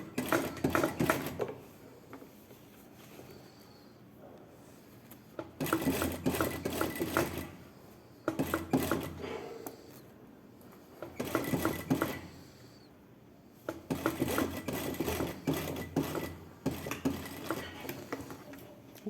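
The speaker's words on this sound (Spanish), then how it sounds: "paso la costura de carga hasta donde me avance en la máquina" A sewing machine stitches a seam on a blouse in bursts of rapid whirring, each run lasting a couple of seconds and separated by brief pauses, close and clear.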